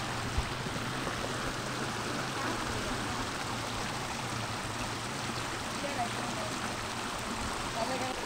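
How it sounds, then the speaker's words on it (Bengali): Fast-running stream feeding the Paruli river after rain, a steady broadband rushing of water that stays even and continuous throughout at moderate distance, with no distinct splashes standing out. "আজকে বৃষ্টির পর এই প্রবাহ দিয়ে কিভাবে প্রবল বেগে পানি নামছে"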